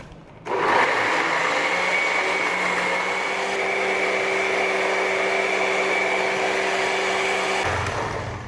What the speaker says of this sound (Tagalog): So, i-blend muna natin.